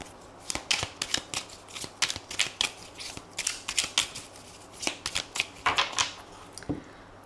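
Tarot-style cards are shuffled and cut by hand, giving rapid bursts of crisp riffling and flicking snaps in an uneven rhythm, close and fairly quiet.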